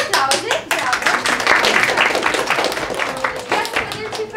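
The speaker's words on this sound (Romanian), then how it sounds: "Și aplauze, bravo!" A group of children claps hands during a storytelling session, a brisk burst of close applause over a continuous murmur, with talking mixed in.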